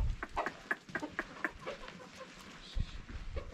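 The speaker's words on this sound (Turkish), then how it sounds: "85 tane tavuğumuz vardı. Horoz tavuk." Several hens and roosters cluck and cackle in short bursts nearby in a village in cold weather, with a few sharper calls among them over a quiet outdoor background.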